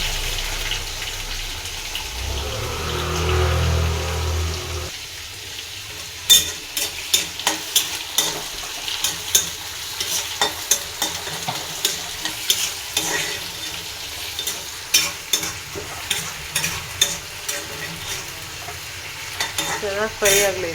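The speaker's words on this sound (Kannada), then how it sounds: "ಚೆನ್ನಾಗಿ ಫ್ರೈ ಆಗಲಿ." Onions and curry leaves fry in a pan with a steady sizzle, and a spoon soon begins scraping and stirring in rhythmic, repeated strokes that continue to the end.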